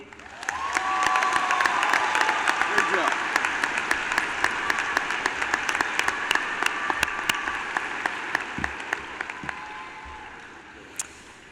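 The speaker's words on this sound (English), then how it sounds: "could we give an additional round of applause for our student speakers?" Audience applause at a high school commencement ceremony, broad sustained clapping with occasional cheers and sharp individual claps, swelling early and then slowly thinning out.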